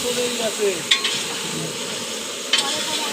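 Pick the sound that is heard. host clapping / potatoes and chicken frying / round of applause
potatoes and chicken frying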